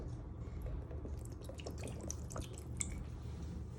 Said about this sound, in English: You now want to add a splash of apple cider vinegar.